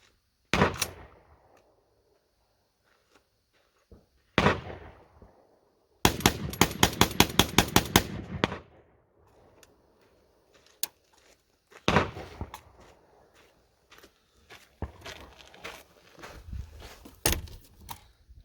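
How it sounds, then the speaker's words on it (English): A Black Aces FD12 bullpup 12 gauge shotgun fires ten rounds outdoors, starting with two loud separate blasts and then a fast rapid string of shots. Later sharp reports and handling clatter follow. "There you go. That was 10 rounds."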